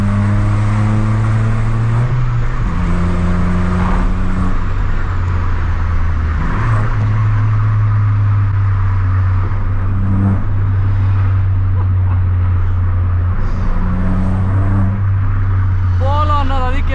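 A modified Volkswagen Polo hatchback with a loud aftermarket exhaust, pulling in third gear, revs hard and climbs through repeated acceleration runs. The engine drone rises and drops with each gear change, loud and close throughout, while people talk over it.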